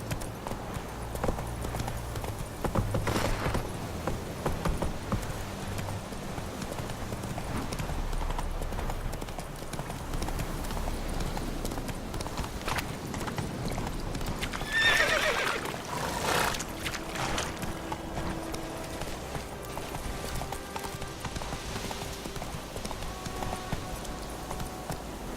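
A horse in The Witcher 3 trots and gallops with steady, rhythmic clip-clop hoofbeats across a long stretch, followed by a short whinny partway through.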